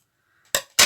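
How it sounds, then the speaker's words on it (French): Scissors snipping off excess fabric trim on a handmade boho traveler notebook cover, two crisp close cuts after a quiet moment. "Donc là, je vais venir découper le surplus."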